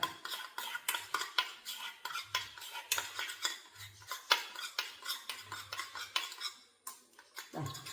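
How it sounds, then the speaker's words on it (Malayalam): Ingredients mixed by hand-held utensil in a bowl, with repeated clinks and scrapes of metal against the dish in an uneven rhythm, close and fairly quiet, with short dull thumps between. "ഈ പരുവത്തിൽ മിക്സ് ചെയ്തെടുക്കുക"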